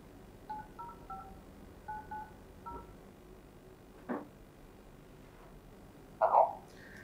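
Telephone keypad dialing tones placed for a call-in program, a series of short separate beeps in an uneven rhythm, followed by a brief click and a louder tone burst at the end, with no talking.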